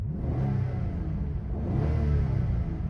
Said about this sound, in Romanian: Cam așa sună un V12 pornit, pus pe treabă.